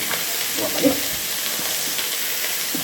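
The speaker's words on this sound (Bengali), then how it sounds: "সব সবজিগুলো ভাজা বসিয়ে দিয়েছি" Vegetables, including bottle gourd stems, fry in a pan with a continuous close hiss and sizzle, broken by an occasional stir or clink.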